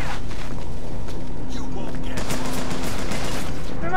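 Gunfire from the video game Bioshock Infinite crackles in loud, dense volleys that blur into rapid bursts over a busy, distorted game mix, with a player talking over the shooting.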